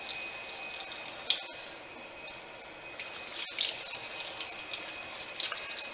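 Water runs from a bathroom tap as makeup removal wipes are rinsed under it, a steady hiss with small splashes and a few brief clicks, fairly quiet and close, with no talking.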